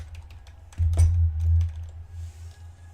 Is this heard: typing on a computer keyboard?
yes